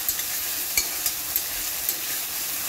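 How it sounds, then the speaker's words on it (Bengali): Onion-garlic paste is stir-fried in a wok, giving a loud, bright sizzle with sharp spatula scrapes and clinks every few tenths of a second, near and with no talk. "এই যে দেখো এখন মা এটাকে ভেজে নিচ্ছে"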